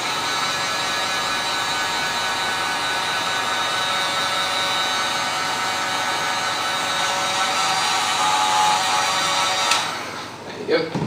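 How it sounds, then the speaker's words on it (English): A heat gun blows a steady, loud whooshing roar onto a headphone cable wrap, holding constant for most of the clip before cutting off near the end with some handling noise. "give it a blast with the heat gun again"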